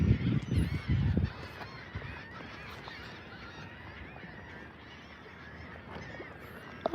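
Seagulls call by the water on a fishing shore, loud honking squawks packed into the first second or so, then scattered fainter cries over a quieter background.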